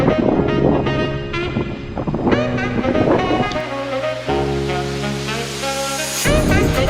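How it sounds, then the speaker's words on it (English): Strong wind buffets the microphone in a constant rushing roar, with low gusty rumbles layered over steady blowing. "so windy today."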